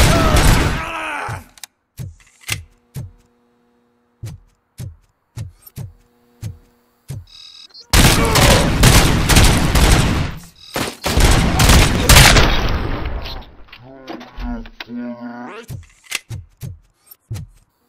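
Gunfire in a RoboCop video game: a steady run of single sharp shots at regular intervals, then a dense loud burst of sustained firing with crashing impacts, followed by a few scattered shots and short vocal grunts.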